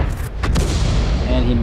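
Tank cannon shots in World of Tanks: a couple of sharp bursts in quick succession followed by a low rumbling boom that lingers with a faint tonal hum.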